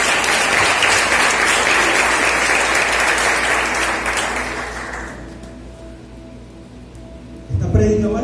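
A church congregation applauds the Lord together during a Spanish-language sermon, a loud sustained wash of clapping that gradually thins and fades, then a brief burst of sound near the end.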